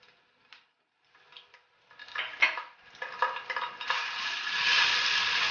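Garlic and ginger paste drops into hot olive oil in a frying pan: a few light clinks and stirs, then a sizzle that builds and holds, close and moderately loud.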